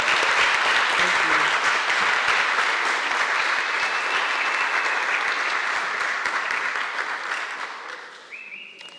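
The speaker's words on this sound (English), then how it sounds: "Let's give our ABSN cohort one more round of applause." A ceremony crowd applauds a nursing cohort at a white coat ceremony with loud, dense, sustained clapping that gradually fades toward the end, where a brief tone cuts in.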